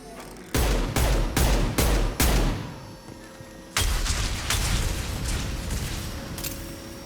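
Weapons fire at tanks in Mass Effect 2, a rapid string of five heavy, booming shots followed by a larger blast whose rumbling roar lingers and slowly fades.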